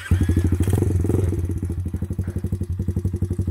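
A 10Ten 90cc mini motocross bike, just cold-started with the choke still on, idles with a steady, loud, rapid thumping beat that stays close and even throughout.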